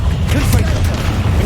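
An Incendio fire spell cast in Hogwarts Legacy on PS5 gives a loud, dense rumbling blast with crackling bursts, sustained for the whole short moment.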